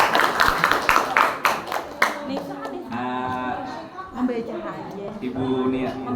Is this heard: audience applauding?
yes